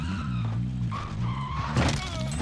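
A car in Call of Duty Warzone reverses with tires skidding and squealing over its engine hum, a short burst of grinding rising near the end.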